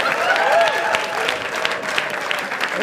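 Audience applause for a standing ovation at a comedy show, steady dense clapping from a crowd throughout, fairly loud and close.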